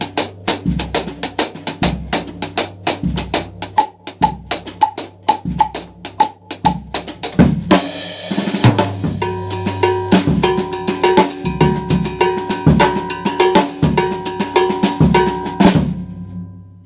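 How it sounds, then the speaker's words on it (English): A drum kit plays Latin jazz time in 3-2 clave at a lesson tempo, with a steady cowbell-like pattern, cymbal and kick hits, and a busier fill that rolls into a rhythmic groove before stopping. "I'm going to play a little time in 3-2 clave,"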